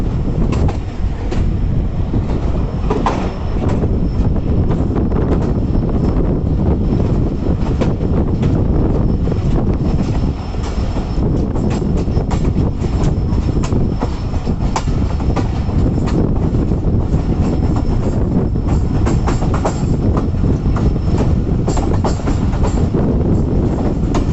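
A Karachi Circular Railway train pulls into Kotri Junction with a continuous loud, close rumble of wheels and carriages, faint clatter and occasional squeals, buffeted by wind noise throughout.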